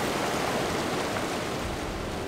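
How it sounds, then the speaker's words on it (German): A waterfall in the video game Borderlands 3 gives a steady, dense rush of broadband water noise, loud and unbroken throughout, with no talk over it. "Wasserfall, ich geh duschen."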